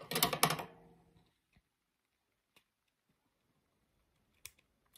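Excess paper being trimmed for a scrapbooking project: a brief, close, crisp crunching snip burst at the start, then near silence with a few faint, scattered clicks.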